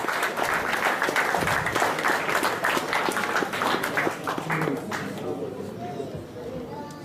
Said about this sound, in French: Bravo Clichy, on peut les applaudir